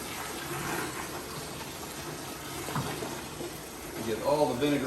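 Cold water circulates through a tankless water heater to flush out vinegar, a steady rushing, gurgling flow close by, swelling slightly toward the end.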